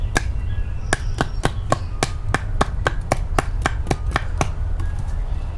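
A folding knife blade is driven through wood with a baton, giving a steady series of sharp, close wooden knocks, about a dozen and a half evenly spaced strikes over a low rumbling background.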